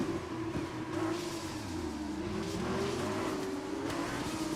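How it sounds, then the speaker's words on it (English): A Formula 1 car engine in F1 2021 drones at high pitch with a steady turbo whine riding over it, shifting slightly in pitch, loud and continuous with no talking. "But you can hear the turbo as well here as well."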